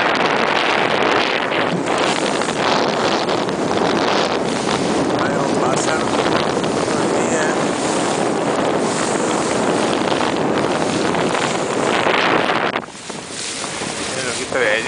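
A motorboat speeds across open water off Jamaica toward a small island, its engine drone blending with heavy wind buffeting and rushing water, steady and loud throughout.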